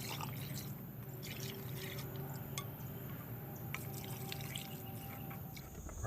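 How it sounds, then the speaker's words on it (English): Hot vinegar-and-water brine poured through a funnel into pickle jars, a soft continuous trickle with faint drips and light clinks, no talking. "We're going to fill them all up with this vinegar and water solution."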